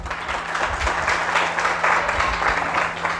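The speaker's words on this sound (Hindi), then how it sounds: "एक बार जोरदार तालियां" Applause from an audience at a Hindi poetry recital in Dehradun, a steady burst of clapping over a low hum, fairly close and even in level.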